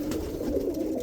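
Roller pigeons in a loft, a kit of cock birds, coo in a low continuous murmur, close and fairly loud, with no talking over it.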